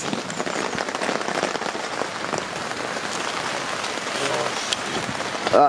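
Steady, dense rain drumming on a tent in the wild at dawn, a continuous close patter of drops with no gaps, a brief louder rustle near the end.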